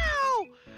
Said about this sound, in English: Let me put my cat on the mic.